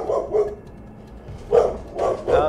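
A dog in the Batman: Arkham Asylum game barks in a quick pair of yaps, then after a short lull gives three more sharp, close barks in a row.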